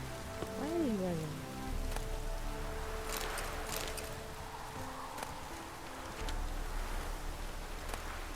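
Rain pours steadily across an outdoor scene in The Witcher 3, a soft continuous hiss of drops with a brief tonal game sound at the start and scattered louder patters.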